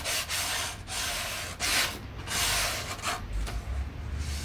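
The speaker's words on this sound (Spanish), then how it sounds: "Se prepara la matriz lijando un poco el borde." The edge of a wooden printing block for woodcut printmaking is sanded by hand, giving rough scraping strokes in an uneven rhythm, close and fairly loud.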